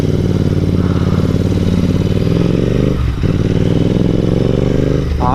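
A Kawasaki Z900 superbike engine roars loud and close, held at a steady high rev with a gritty mechanical rasp, briefly dipping around the midpoint before surging again.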